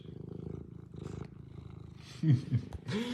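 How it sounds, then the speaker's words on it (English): A Bengal cat purring while being scratched, a low rhythmic rumble close to the microphone, quiet at first and swelling louder toward the end. "Hopefully everybody can hear those purrs."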